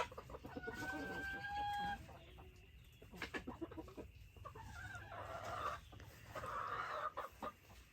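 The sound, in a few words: chickens clucking in a new coop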